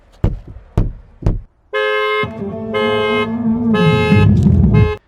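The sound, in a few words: loud musical car alarm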